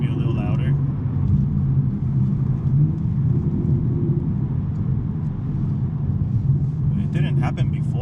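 A BMW M3 with a six-speed manual gearbox drives along, its exhaust a steady, loud low drone heard from inside the cabin, holding constant throughout with no clear gear changes.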